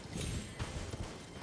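A horse galloping in Elden Ring, a short burst of quick, uneven hoofbeats close up, with no talk.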